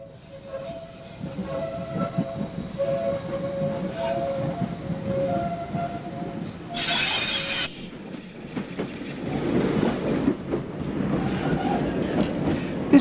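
A London Underground 1938 stock tube train runs with rumbling wheels and rail clatter, its motor tones whining and a brief bright burst partway through, close and continuous.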